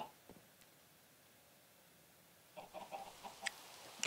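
Minecraft chickens cluck in a few short, soft bursts near the end after a long stretch of quiet game ambience, in a Sky Factory modded world.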